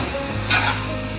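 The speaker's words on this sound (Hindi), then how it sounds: "इसको मैं ऐसे साथ साथ टॉस करूँगा ताकि अच्छी तरह हमारे स्पैगेटी जो है वो मसाले के साथ मिक्स हो जाए।" Chicken chow mein noodles with spices are tossed in a hot pan, producing a brief sizzling hiss with a short surge of frying noise, close up and without talk.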